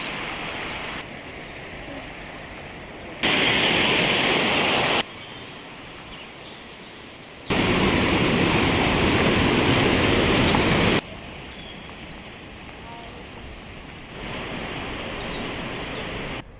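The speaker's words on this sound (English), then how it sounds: "It's basically like a beach." Waves at a beach beside a cave at Los Cajorros, a broad hissing wash of surf that swells loudly in separate surges and falls back to a softer rumble between them, with no voices.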